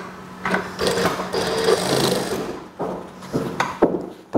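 A sewing machine stitches pleats on a school skirt, running in several short bursts with brief pauses between them, close and fairly loud.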